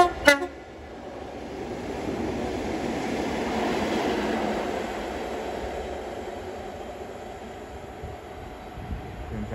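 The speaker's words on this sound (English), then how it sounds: "Passing through now will be a pair of HSTs going from Kidderminster to DM" Pair of HST trains passing through Watford Junction on the West Coast Main Line, a brief horn toot at the start, then a steady rumbling roar that swells and slowly fades, heard alone from trackside.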